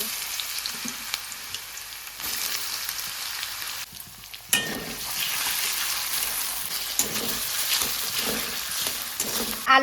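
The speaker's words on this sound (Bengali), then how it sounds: "আলুটা হালকা ভাজা হয়ে গেছে" Potatoes with chopped garlic sizzle and crackle steadily in hot oil, a dense, close frying hiss with a louder burst partway through and occasional stirring scrapes, and no talk over it.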